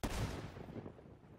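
A single pistol gunshot in a video game, a sharp loud blast that decays into a short rumbling tail over about a second.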